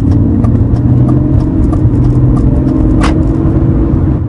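A 2001 BMW 330i with a 225-horsepower six-cylinder engine pulls hard under full throttle, a loud, steady drone with rhythmic knocking that runs throughout, heard up close with no talk.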